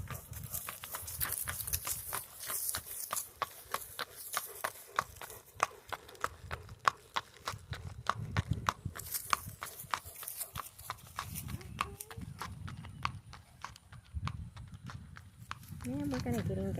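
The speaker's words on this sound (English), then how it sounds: "And here comes Legacy walking down the driveway." A silver dappled gray registered Tennessee Walking Horse walks down a driveway on pavement, its hooves clopping in a steady, even rhythm at moderate distance while people talk over it throughout.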